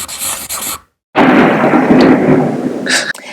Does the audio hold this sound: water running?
no